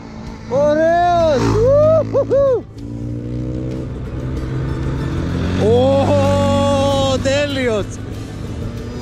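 A GasGas 300 motorcycle near Kouri, Chortiatis, has its throttle opened hard in two bursts of loud, rising revs with quick blips between them. The engine ticks over steadily in the gaps while people speak briefly nearby.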